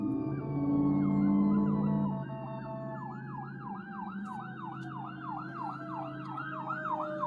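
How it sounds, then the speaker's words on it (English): A fire engine siren passes outside, a loud wailing tone sweeping up and down repeatedly, with traffic rumble underneath that fades as the siren continues. "there's a fire engine"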